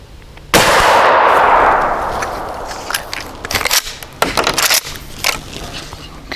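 A single 20 gauge shotgun slug fired outdoors at a 50-yard range: one loud, sharp blast followed by a long, fading roll of echo, then a few quieter handling clicks and knocks.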